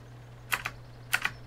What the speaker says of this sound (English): hear that? Yeah, I've got my mechanical keyboard out.